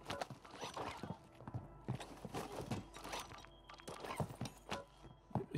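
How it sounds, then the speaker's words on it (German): Footsteps in Warzone 2, boosted by a sound setting, land as a string of close, hard thudding steps in an irregular walking rhythm, at moderate loudness with nothing else over them. "Ich hab ne Setting installiert, damit du die Schritte noch lauter hörst"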